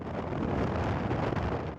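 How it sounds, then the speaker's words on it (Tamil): Strong wind buffets the microphone outdoors at Manapad church on the coast near Tiruchendur, a steady loud broadband roar with no voices. "ரொம்ப காற்றடிக்குது"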